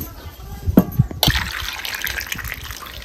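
Water gushes and splashes while mud-covered potatoes are washed for a fasting sabudana chakli, a close, continuous pouring and rinsing sound with a few knocks and a sharp splash early on.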